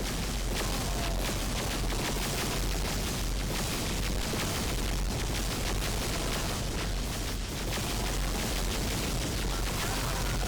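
Necron weapon fire and explosions in a Warhammer 40k battle against Imperial Guardsmen, a continuous dense wall of booms, blasts and crackling shots, loud and unbroken from start to end.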